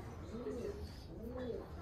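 Pigeons coo from a riverside building in Canterbury, low soft warbling calls repeating twice at a moderate distance under steady outdoor background noise.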